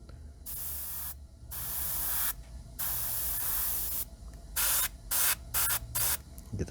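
A paint spray gun hisses in bursts while lettering is sprayed, first in three long steady blasts separated by pauses, then in a run of shorter quick trigger pulls, close and clear with no talking.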